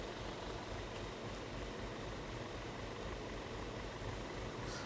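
A 2014 Audi A4 with low oil pressure idles roughly, a faint, steady low rumble with a hissy wash over it that holds for the whole stretch, with no talking.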